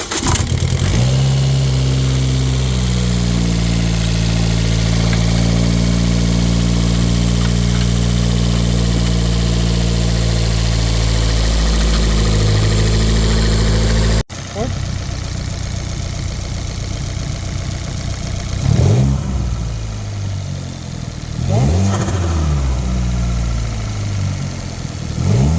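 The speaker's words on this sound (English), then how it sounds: "Go ahead and give her a nice cold start." Fiat 500 Abarth engine cold-starting and idling, a loud steady idle with a high fast-idle tone that settles lower, then a cut and a rougher idle with a couple of brief revs, close by.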